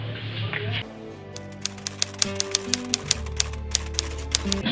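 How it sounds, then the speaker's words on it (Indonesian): Manual typewriter keys struck in a steady rhythm, about a dozen crisp clacks close by over a low hum and faint background murmur. "Sayuti, tolong ketikkan ini."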